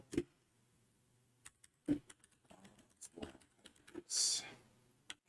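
Scattered computer keyboard taps and clicks as a terminal command is typed, a few sharp keystrokes spaced irregularly, close and fairly quiet, with a brief louder burst near the end.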